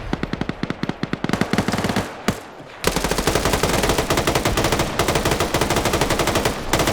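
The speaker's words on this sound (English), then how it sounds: "your opponent has a CQC light machine gun and he is pre-firing the corners" Light machine gun fire in a PvP shooter match comes in rapid sustained bursts, loud and close, with a brief pause before a denser continuous stream of shots.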